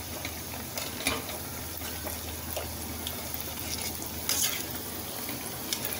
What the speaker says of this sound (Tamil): இப்போ ஒரு பக்கம் மெல்ல வேகட்டும், மீடியமில் வைங்க கேஸை.